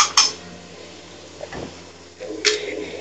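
Chopped garlic and ginger tipped into a cooking pot, brief metallic clinks of a spoon against the pan with light scraping and clatter, fairly close and without talk.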